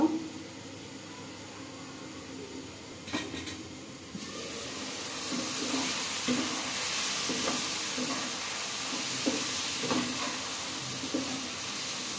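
Masala sizzling and frying in a covered pan while cooking Bangladeshi fish curry, a steady hissing sizzle with occasional stirring knocks and scrapes, louder after a few seconds and continuing alone.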